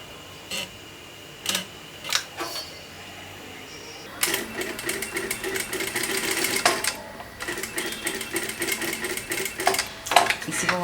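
A sewing machine runs a line of stitches on a strip for a four-dart blouse with a belt. A few isolated clicks come first, then a sustained, fairly close run of rapid stitching continues to the end.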